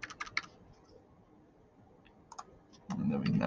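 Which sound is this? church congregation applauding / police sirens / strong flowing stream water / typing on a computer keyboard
typing on a computer keyboard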